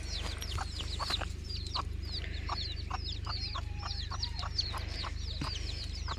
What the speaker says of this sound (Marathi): आणि इथे आहे 6 पिल्ल आहेत कोंबडीला.